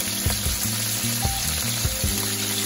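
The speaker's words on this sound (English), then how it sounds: "This one is just sauteed." Halalu fish sautéing in a pan in Hawaii, giving a steady close sizzle and crackle of frying with some stirring and clinking underneath, no talking.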